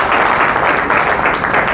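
Audience applause at a BNI business networking meeting in India, a dense, steady clapping from a crowd that carries on evenly throughout the short stretch with no voices on top.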